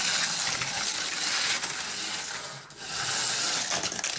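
An HO scale slot car truck from an Auto World Outback Overdrive X set races at full power and crashes, a close, buzzing electric whir with rattling clicks, a brief dip in the middle, then the whirring resumes.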